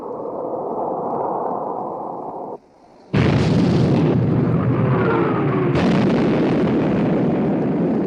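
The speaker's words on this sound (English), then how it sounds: "Torpedo hit amidship, sir." A torpedo strikes a battleship amidships in a 1960 naval war film: a low rumble cuts out briefly, then a loud, sustained broadband blast roars in and keeps thundering for several seconds.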